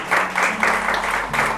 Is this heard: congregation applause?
yes